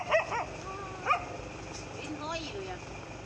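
A dog facing a 12-foot king cobra gives a few sharp yips and short whimpering barks, close and moderate, with a voice speaking in between.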